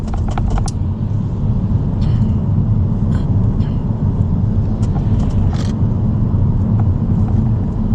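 Large freight trucks roll past on a road near Jakarta, giving a loud, continuous low rumble with occasional brief clanks and rattles and no talking.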